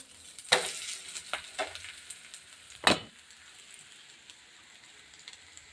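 Dhapate, a lentil-flour flatbread, roasts in a pan, giving a faint, quiet sizzle punctuated by a few sharp crackles and pops, with no speech over it.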